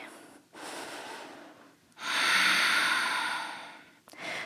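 Deep, audible breaths during a strengthening yoga flow: a long inhale, then a stronger, louder exhale through the nose and mouth, close and airy, with a quieter breath beginning at the end.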